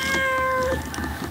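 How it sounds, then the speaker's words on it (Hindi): A cat gives one long, clear meow close up, its pitch gliding down, followed by a softer trailing sound. "वो वैसे ही करे जा रही है म्याऊं म्याऊं"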